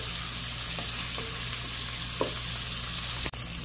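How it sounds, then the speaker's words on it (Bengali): Pointed gourd frying in oil with turmeric, coriander powder and salt, a dense steady hiss of sizzling close up, with a couple of faint clicks and one brief sharp knock near the end, no talk. "সামান্য একটু হলুদ, ধনিয়া গুঁড়ো এবং লবণ দিয়ে ভেজে নেব"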